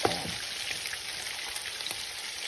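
Fish fries in hot oil at home, giving a steady, crackling sizzle with scattered sharp pops, heard close and fairly quiet with no voices.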